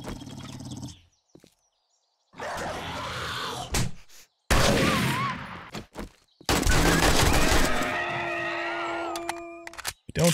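Pipe shotgun in 7 Days to Die fires several loud, separate blasts with short gaps of silence between them, followed by a scattered tail of ringing, whistling tones.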